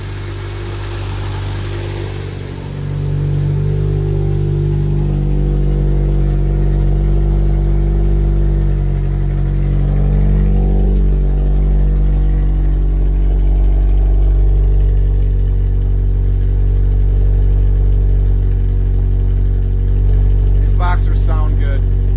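A supercharged Scion FR-S / Subaru BRZ / Toyota GT86 engine fires up and runs at a steady, close idle, its low rumble continuous for the whole stretch, with a slight lift early on.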